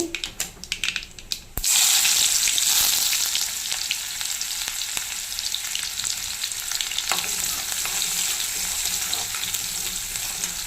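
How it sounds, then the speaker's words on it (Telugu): Mustard seeds crackle softly in hot oil in a pan, then chopped onions drop in and set off a sudden loud sizzle that keeps frying steadily, with occasional spatters and pops. "చూడండి ఆవాలు వేగుతున్నాయి. దీంట్లో ఎర్రగడ్డలు వేస్తాను."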